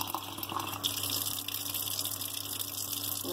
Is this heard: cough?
no